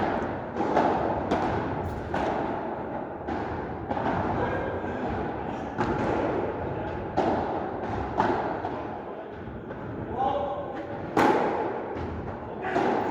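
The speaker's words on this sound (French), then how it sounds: "magnifique smash de Théo qui nous permet de breaker sur ce début de match" A hard smash strikes the ball during a competitive tennis-style racket match, one of several dull thumping impacts in a lively court ambience with voices.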